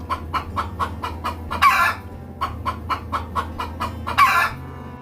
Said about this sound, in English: This is chicken.